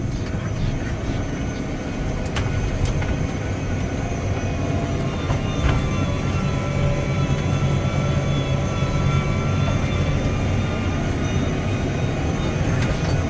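A tractor pulling a harrow at about 5 to 5.5 miles an hour drones steadily and loudly throughout, a constant rumbling hum with no pauses and no voices.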